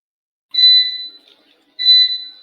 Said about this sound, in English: You can hear that beep.